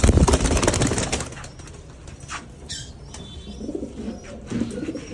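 A Red Lahori fancy pigeon coos and flaps nearby, opening with a loud burst of wing beats, then softer rustling and low coos near the end, with no talk.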